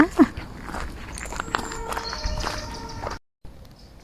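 Footsteps crunch along a forest floor on a sunny autumn day in a German woodland while mushroom hunting, steady walking paces under light background noise with soft birdsong tones, a brief voice sound near the start and a short dropout near the end.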